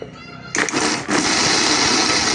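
A kitchen mixer grinder blends roasted peanut chutney with cardamom pods, its motor roaring loud and steady after a brief start, stopping and restarting as the jar spins.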